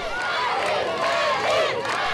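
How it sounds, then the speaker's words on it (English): Hundreds of people in the streets of Asanga in northern Mali cheering Niger soldiers as they pass, a loud, close mass of shouting and wavering, ululating voices that rises and falls. "They came out in the hundreds to cheer the Niger soldiers passing through the streets of Asanga in northern Mali."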